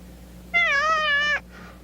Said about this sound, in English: Cat. Scared me.